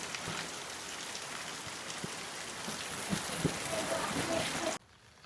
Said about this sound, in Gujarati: તો મિત્રો ધોધમાર વરસાદ ચાલુ થઈ ગયો છે